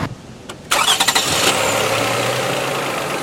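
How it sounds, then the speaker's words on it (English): Car engine cranking and catching on a 2000 peak amp Imazing jump starter, a brief click and stutter of starter turns before the motor fires loudly and settles into a steady close idle. "So let's go start the car."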